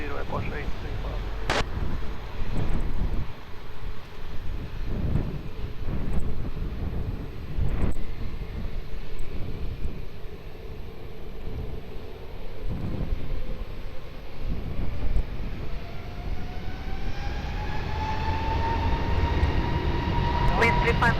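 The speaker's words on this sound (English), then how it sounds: "runway 20, cleared for takeoff" Airplane taking off from runway 20 at Lisbon Airport, a rumbling jet engine roar building steadily with rising whine toward the end, mixed with wind buffeting and faint distant talk.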